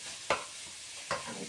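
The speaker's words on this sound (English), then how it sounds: "still fry a little bit" Onions and other chilli con carne ingredients fry softly in a pan under a faint continuous sizzle, with two brief scraping stirs close by.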